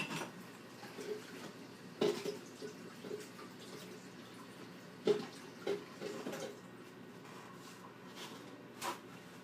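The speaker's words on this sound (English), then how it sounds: "Let me go wash my hands" Hands washed under a running kitchen tap at the sink after kneading buttery monkey bread dough, a steady close rush of water broken by a few clinks and splashes.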